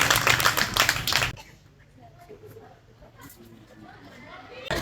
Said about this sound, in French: Mesdames, messieurs, vos applaudissements pour recevoir les animatrices de cet après-midi.